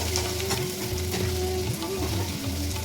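Onions and green chillies sautéing in a pan with curry leaves for vada curry, giving a steady close sizzle and crackle of frying with occasional stirring, no voices.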